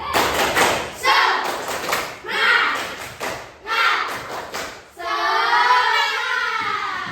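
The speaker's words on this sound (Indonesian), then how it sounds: "Tepuk semangat." A school class performs a rhythmic spirit clap in patterned bursts of claps and thumps, several groups of beats followed by a sustained chant-like cheer at the end, loud and close.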